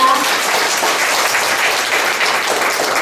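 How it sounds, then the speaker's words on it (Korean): A lecture audience breaks into warm, dense applause, loud and continuous throughout with no voices over it. "이사장님께 뜨거운 박수 부탁드립니다"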